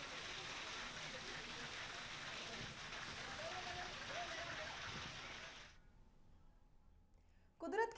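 Steady hiss of falling rain fills most of the stretch, fairly faint, with a voice talking over it; the rain cuts off abruptly near the end and a brief louder sound follows.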